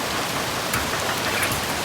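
Steady rain falls and patters densely on nearby surfaces, a constant close hiss with scattered drop hits and no voices.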